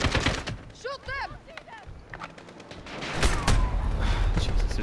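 Gunfire from the shooter game Modern Warfare (2019): sharp, rapid bursts of shots that swell into a dense, loud volley near the end, mixed with game effects while someone talks over it.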